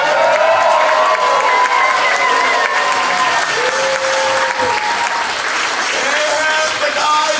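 Sustained applause from an audience at a Purim play, steady and dense throughout, with a few tonal voices or instruments faintly woven in.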